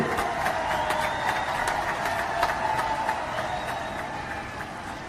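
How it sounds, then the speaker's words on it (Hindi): At a large BSP rally in Karnal, a crowd applauds to welcome Mayawati. Steady, scattered clapping rises above a broad, continuous roar of the gathered crowd, heard from a distance. "आग्रह करता हूं सभी लोग तालियां बजाकर, तालियों की गड़गड़ाहट से स्वागत करें"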